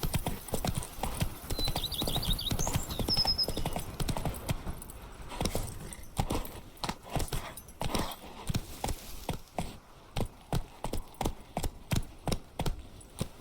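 A horse trots in The Witcher 3, its hooves clip-clopping in a steady, close rhythm with a brief neigh early on; the beats grow sharper and more distinct toward the end.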